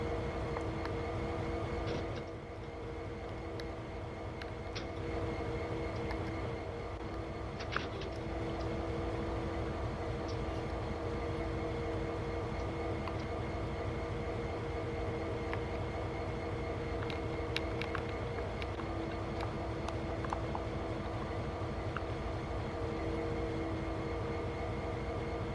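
A locomotive running in Train Sim World 2 gives a continuous, steady engine drone with sustained tonal hum and rumble for the whole stretch, with occasional faint clanks and no talking.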